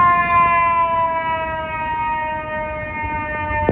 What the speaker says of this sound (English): Pinkie Pie, fire truck.